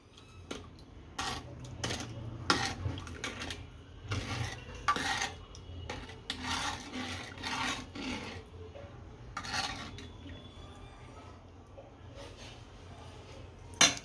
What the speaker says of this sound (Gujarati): આને હલાવી નાખશું ચમચે કરી.